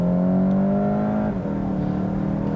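A 2019 Volkswagen GTI hot hatch at full throttle from about 40 mph, its engine note climbing steadily in pitch before a brief dip as the gearbox shifts, loud and close from inside.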